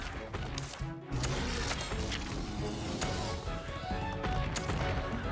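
A Firecracker skill goes off in Monster Hunter Stories 2, a dense burst of rapid crackling pops like a string of fireworks that stays loud and continuous for several seconds.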